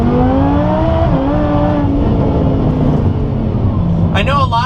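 A Lamborghini pulls hard in first gear with a loud, rising engine note that climbs steadily and then settles into a rough roar, and a voice exclaims briefly near the end.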